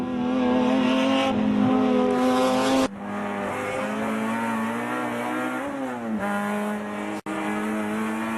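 Touring race cars in a United States Touring Car Championship event run side by side into a turn, engines droning loudly at high revs, pitch dropping and shifting as they brake, with brief tire squeal.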